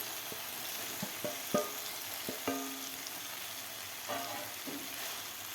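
Potatoes, broccoli and peas, fried in oil beforehand, sauté in masala with a soft steady sizzle broken by a few clinking spoon strokes against the pan, no voices.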